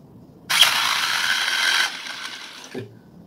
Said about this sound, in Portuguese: Eu vou acionar de novo. Reparem bem esse motor ali.